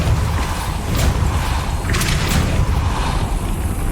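A Depulso spell cast in a Harry Potter video game: a loud, dense magical burst with a mechanical grinding rumble underneath and sharp bright whooshes flaring up about once a second.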